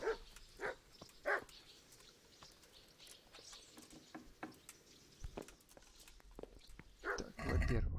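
A dog in the medieval game Kingdom Come gives a few short, sharp barks at irregular intervals, moderately close, over quiet ambient background with light pattering footsteps.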